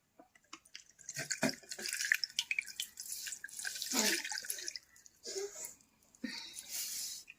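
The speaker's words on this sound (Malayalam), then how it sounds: "എണ്ണ ഇങ്ങനെ തൊള്ളി വീണുകൊണ്ടിരിക്കും" Herbal hair oil drips and trickles through a strainer into a vessel in close, quiet bursts of liquid patter with brief pauses, and no talk.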